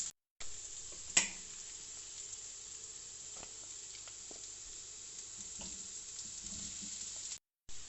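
Onions and potatoes frying in a pan for samosa filling, a steady faint sizzle with scattered small pops and one sharp clink near the start, no talking.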